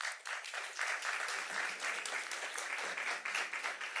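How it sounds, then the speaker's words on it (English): A conference audience claps for a keynote speaker at a summit, steady and dense applause from many hands, quite faint overall and heard from a distance throughout. "Let's give him a round of applause."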